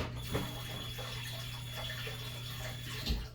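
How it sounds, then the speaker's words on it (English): A kitchen sink tap runs while scooby snack treats are being made, a steady close wash of flowing water with a couple of brief clunks near the start and end. "Now you're gonna hear a lot of water sounds in this video."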